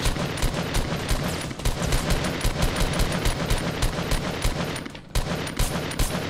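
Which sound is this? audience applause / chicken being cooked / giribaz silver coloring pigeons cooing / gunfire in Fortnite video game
gunfire in Fortnite video game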